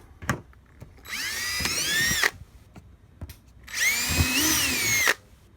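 A power drill drilling holes in a plastic bucket whirs in two loud bursts of about a second each, with clicks and light handling noise between them.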